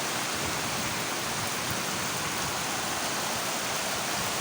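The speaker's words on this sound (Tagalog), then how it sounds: "Lakas ng ulan." Heavy rain pours down steadily during a storm, a dense, continuous hiss with no breaks, loud and close, with no voices over it.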